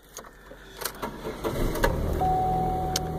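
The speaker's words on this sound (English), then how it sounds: "Vehicle turns over nicely, which I like." A 2001 Pontiac Sunfire engine settles into a steady running hum just after starting, preceded by a few clicks and clunks, heard fairly close and at moderate level.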